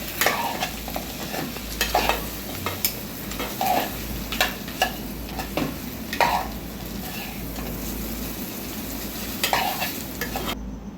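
Chettinad village-style mutton fry is stirred with masala in a sizzling pan, with repeated scraping strokes over a steady frying hiss and no talk.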